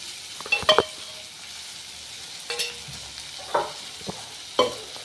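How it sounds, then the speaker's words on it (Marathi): A spatula stirs cluster bean curry with salt and crushed peanut powder in a pan, giving a few separate scraping strokes with faint sizzling between them and no talk. "असं टाकून परत हलवून घ्यायचं आहे"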